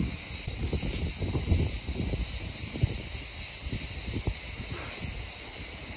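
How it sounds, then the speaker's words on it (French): Cicadas droning steadily among ruined columns on the island of Kos, Greece, a continuous high-pitched buzz holding through the whole stretch with soft low rustling and handling noise beneath. "Et les cigales!"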